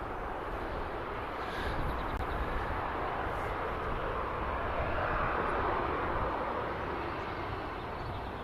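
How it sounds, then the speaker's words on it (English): A TUI airliner departs from Birmingham Airport, its engines a sustained roar that swells slightly through the middle and eases toward the end, heard alone at moderate distance. "We've got Tui departing now."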